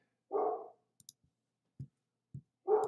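Two loud dog barks, one at the start and one at the end, with a few short soft knocks and thuds between them in otherwise quiet surroundings.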